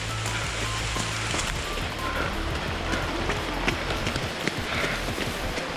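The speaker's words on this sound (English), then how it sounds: "I'm actually running in the late afternoon where there's this heavy downpour." Heavy late-afternoon downpour on a trail run at MacRitchie in Singapore, a steady dense hiss of rain filling the whole stretch with footfall-like thuds underneath, close and continuous with no talk.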